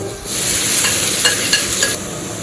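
Garlic sizzles steadily in a hot pan, a close, continuous frying hiss broken by a few soft stirring scrapes, with no voices.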